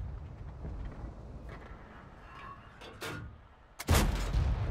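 Tank cannon shots in a game match, aimed at an EBR, thud out as a few spaced booms, one heavy close blast near the end, amid low rumbling battle ambience.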